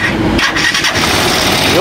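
A Rusi Chariot 175 motor tricycle engine cranks and sputters on a weak battery as it tries to start, turning over unevenly and loud, with a voice speaking over it.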